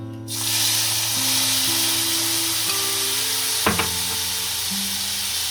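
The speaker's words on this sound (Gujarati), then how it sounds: "આપણું તેલ ગરમ થઈ ગયું છે આમાં હિંગ નાખી દઈશું આમાં આપણે ભેળવેલું મરચું નાખશું" Asafoetida and chili go into hot oil and sizzle with a steady, loud hiss. A couple of faint clinks are heard partway through.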